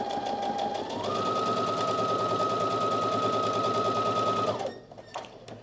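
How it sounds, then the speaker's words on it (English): A sewing machine runs fast and steady, close up, as it stay stitches a dress between the shoulder notches, its whirring pitch rising slightly after a second, then stopping abruptly near the end. "let's go ahead and stay stitch in between the two notches here"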